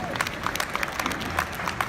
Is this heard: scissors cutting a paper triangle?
no